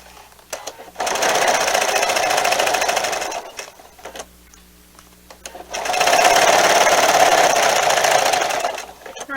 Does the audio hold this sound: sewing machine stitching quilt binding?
yes